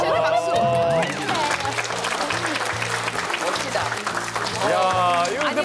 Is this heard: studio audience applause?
yes